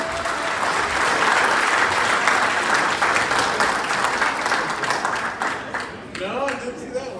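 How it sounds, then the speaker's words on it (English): Wedding guests applauding at a reception, a loud sustained round of clapping from a crowd that tapers off, with a voice beginning over it at the end. "how about another round of applause for Jessica and Chris?"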